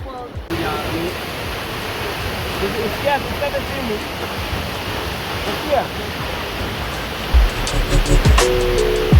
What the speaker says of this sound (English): guys, check that waterfall.